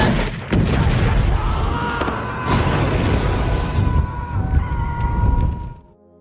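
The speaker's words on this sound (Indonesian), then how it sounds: "Dan akhirnya meledak bersamaan dengan Yulon" A gas explosion in the 2023 horror film Thanksgiving erupts as a loud, sustained rumbling blast with crackling debris and creaking, ringing on for several seconds before cutting abruptly to silence.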